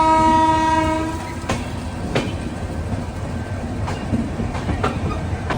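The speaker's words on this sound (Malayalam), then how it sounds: "ആ പോയത് വാരണാസിക്ക് പോകുന്ന വന്ദേ ഭാരതാണ്." A Vande Bharat express bound for Varanasi passes on the adjacent track as heard from aboard another train, its horn sounding first, followed by a rushing rumble and sharp wheel clacks over rail joints.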